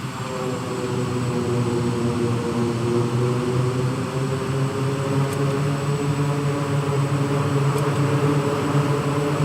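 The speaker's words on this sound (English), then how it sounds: "See if I can reverse thrust here." Airliner in a flight simulator on landing with reverse thrust: a steady, loud engine roar with layered droning hums held evenly throughout, close and continuous.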